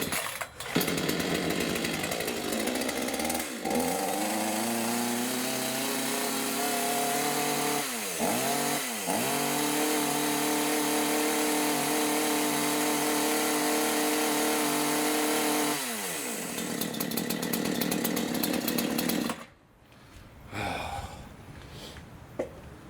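A Full Boar 53cc homeowner chainsaw starts and runs loud and close at a steady roar with a couple of brief throttle dips, then cuts off abruptly and leaves quiet handling noises.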